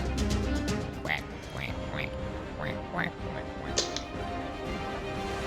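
Several sharp duck quacks sound in quick succession during a Nerf-blaster skit, alongside voices and a bustling background.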